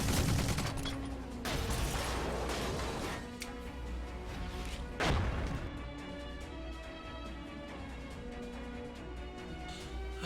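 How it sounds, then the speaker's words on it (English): Distant gunfire and explosive booms from units in the Tiny Metal strategy video game come as a few faint blasts over a steady low mechanical drone, with no speech. "Weapons powering up. Preparing to fire."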